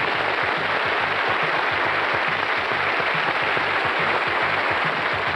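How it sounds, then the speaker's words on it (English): A studio audience on the game show Going for Gold applauds a contestant, a dense, even wash of clapping that runs unbroken throughout at moderate loudness. "we'll give you a round of applause for being in the top 3 of this series of Going for Gold"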